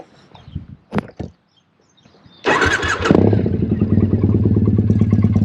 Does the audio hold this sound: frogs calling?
no